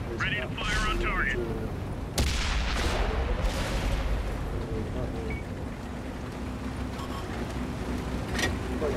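A tank's main gun fires in World of Tanks with a sharp loud blast near 2 s, then a rumbling tail. A continuous engine drone and game noise run underneath, and a voice speaks briefly near the start.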